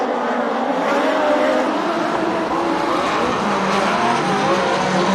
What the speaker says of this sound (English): we've got a yellow flag for a spin in turn 4